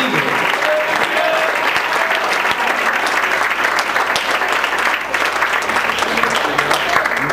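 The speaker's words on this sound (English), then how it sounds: "why don't you give the Lord a good hand clap and a good shout before you're seated" A church congregation claps and shouts in praise, dense continuous applause filling the room at high volume with cheering voices mixed in, sustained evenly for several seconds.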